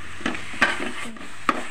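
Grated coconut and carrot mixture for laddoos frying in a pan while being stirred, a soft steady sizzle broken by a few sharp scrapes of the spoon against the pan, close and moderately loud with no talking.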